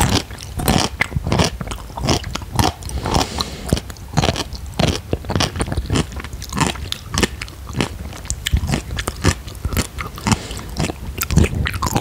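Close, wet crunchy bites and chewing of a hot pickle, with sharp irregular crunches repeating steadily throughout and no talking.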